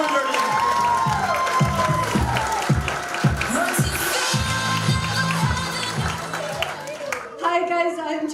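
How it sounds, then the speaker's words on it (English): A comedy club audience claps and cheers as a comedian is welcomed to the stage, with the applause running under a loud voice on the microphone. "Let's start the round of applause now."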